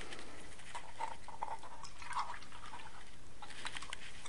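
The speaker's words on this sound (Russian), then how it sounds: "Спустя некоторое время мы сольем воду." Water tipped out of a container, a faint, steady trickle with scattered drips, close by and alone without any talk.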